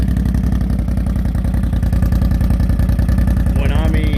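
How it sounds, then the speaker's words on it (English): A loud, throaty 2014 Can-Am Renegade 800R ATV engine with an aftermarket RJWC exhaust idles with a rapid pulsing rumble, then revs up sharply near the end, harsh and close. "That RJWC exhaust is just a monster on this thing."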